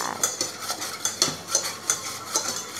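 Two eggs being stirred into donut batter in a bowl, with a steady run of rhythmic whisking strokes and light utensil clinks against the bowl, close and moderately loud.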